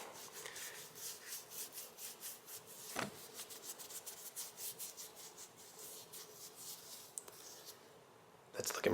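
Brass is polished with Brasso, a quick rhythmic rubbing of cloth on metal with soft, repeated swishing strokes, fairly quiet and close, with a few knocks near the end.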